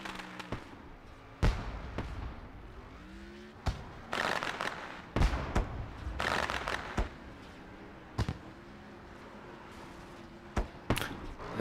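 Cheap fireworks crackle and bang over Irwindale Speedway after a paved sprint car race, sharp irregular pops and thuds scattered through the stretch, some in quick clusters, with a low murmur of engines or crowd underneath.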